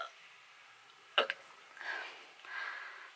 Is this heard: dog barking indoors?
no